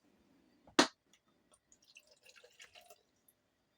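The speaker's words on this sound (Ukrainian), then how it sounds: "Відміряю 50 мл оциту." About 50 ml of vinegar measured out and poured for a home marinade: one brief close splash, then a scatter of faint drips and small clinks in a quiet kitchen.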